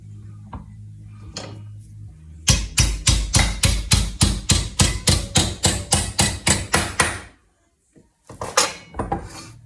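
Steel tube clamped in a vise and worked into a bend for a VF Holden chair build: a rapid, even run of about eighteen loud, ringing metallic strikes, then a short pause and a few more blows, with no talking.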